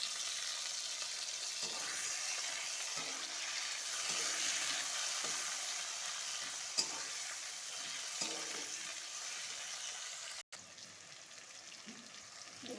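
Tomato frying in a pan of hot oil with onion for a pointed gourd and prawn curry, a steady close sizzle broken by a few stirring clicks and scrapes.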